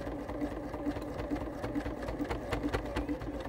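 Sewing machine stitching with a double needle, a rapid, even mechanical whir with regular ticking beats, close but fairly quiet, running steadily without talking.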